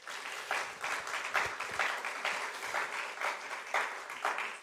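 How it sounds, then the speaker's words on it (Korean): Students at a university chapel service in Daeshin University applaud to welcome a visiting professor, a steady, moderately distant round of many hands clapping with no talking over it. "여러분 박수 한번 하겠습니다."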